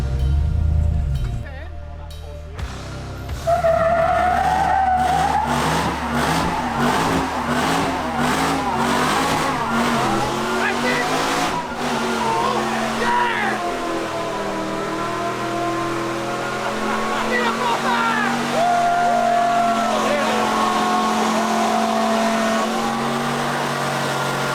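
A new Jeep Gladiator with a supercharged 6.4 Hemi and 40-inch tires does a burnout, its engine revving hard and rising in pitch, then holding a loud, sustained roar up close with wavering tone.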